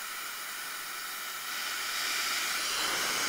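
Mescomb rotating hair dryer brush blowing air, a steady broadband hiss that swells louder partway through as the airflow is turned up, heard close and alone.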